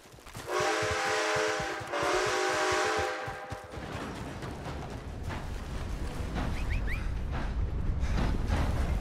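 In the video game Red Dead Online, a train horn blasts twice in long, loud tones, followed by the continuous rumble and clatter of a train rolling along the tracks.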